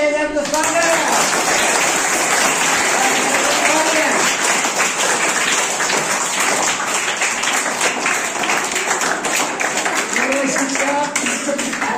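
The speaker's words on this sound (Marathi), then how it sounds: "सर्वांनी टाळ्या" Students at a school general knowledge quiz competition give a sustained round of applause, a dense crowd clapping that fills the room for the whole stretch, with voices mixed in.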